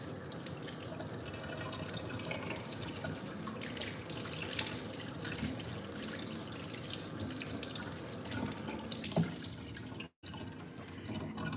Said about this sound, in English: I'll wash my hands real quick.